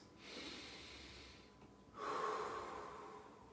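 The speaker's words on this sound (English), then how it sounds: "I want you to just take 5 deep breaths." Deep, slow breaths taken during a seated chest-opening exercise with arms rotated outward: a long airy inhale followed by a louder, rougher exhale, close and alone with no talking.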